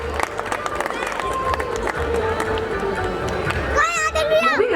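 A school annual day crowd applauds students, a dense, sustained wash of clapping mixed with murmuring and children's voices, with a voice speaking over it throughout.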